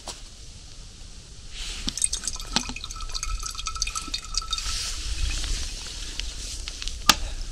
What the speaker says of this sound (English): doing the fun chore of filtering water